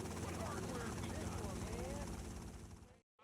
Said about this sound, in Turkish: Helikopter gitti gideceği yere ve ilk görev bitti.